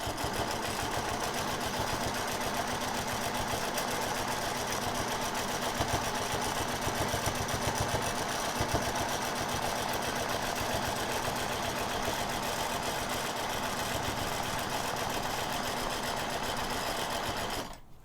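A sewing machine runs steadily while stitching curved arcs, its even rapid hum continuing unbroken and close for the whole stretch before stopping abruptly at the end.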